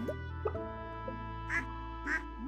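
A duck in the barn in Stardew Valley quacks in two clear, nasal bursts about half a second apart over a steady low game hum, and a voice speaks briefly.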